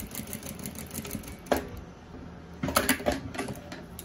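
A sewing machine stitches floral fabric for a simple school pencil case, backstitching at the seam ends in short mechanical bursts: one brief run, a pause, then a denser clattering burst, quiet and close.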